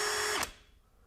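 A Hercules HCB92B 20V hammer drill whirs loudly at a steady speed under its variable speed trigger, then winds down sharply and falls quiet partway through.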